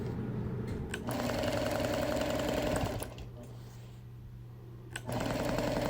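A sewing machine quilts a straight line across a quilt patch, its motor running in a loud steady whir that eases briefly to a lower hum before speeding back up.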